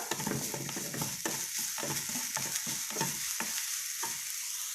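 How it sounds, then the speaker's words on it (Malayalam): Grated coconut with sugar roasting in ghee in a pan for a small-banana pudding, a constant close sizzle under repeated rhythmic scrapes of a spoon stirring the mixture, with no voices. "ഇതിലോട്ട് ഒരു മൂന്ന് ടീസ്പൂൺ പഞ്ചസാര ചേർത്ത് കൊടുക്കാം ഇനി ഇത് നന്നായിട്ടൊന്ന് നെയ്യ് തെളിഞ്ഞു വരുന്നത് വരെ ഒരു ബ്രൗൺ കളറാവുന്നത് വരെ വറുത്തെടുക്കുക"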